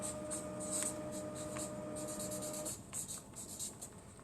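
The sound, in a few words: writing by hand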